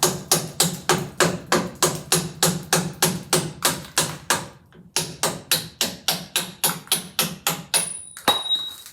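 Steady, loud hammer blows strike metal on a Land Rover chassis to knock out a part, around two per second in a long even run with one brief pause, ending with a ringing clang.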